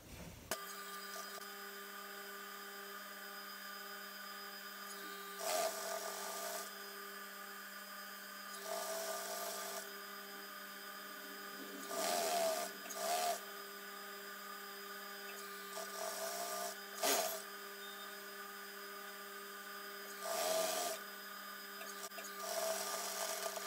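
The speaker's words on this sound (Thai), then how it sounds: "แล้วเราก็จะเย็บยาวไปเลยนะคะ" A sewing machine stitches a long seam for a homemade V-neck pajama top, a steady close mechanical whir that runs throughout with several brief louder bursts of faster stitching.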